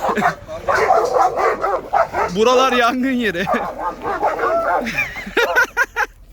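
Several dogs bark, yip and whimper in a hobby garden, the excited barks coming in quick bursts close by, mixed with someone talking over them.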